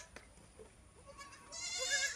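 Goat bleating, a single close call rising in the second half over low farm background noise.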